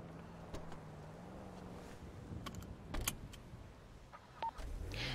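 A car being locked in a roleplay video game, with a few short beeps and clicks and a brief electronic chirp over a steady low engine hum and ambient game noise.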